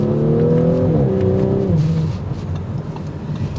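A 2023 Audi S5 Sportback with 349 horsepower accelerates hard, its engine note rising through a gear then dropping off into road and wind noise, heard from inside the car without talk.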